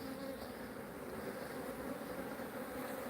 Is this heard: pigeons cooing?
no